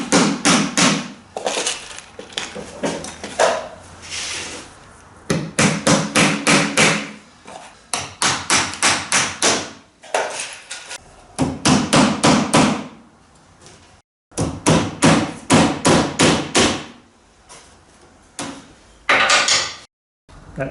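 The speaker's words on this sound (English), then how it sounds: "I'm just going to tack it down." Rapid clusters of sharp hammer taps tacking a 1/8-inch plywood spiling pattern down for a dinghy build, several quick strikes per burst with short pauses between, close and crisp.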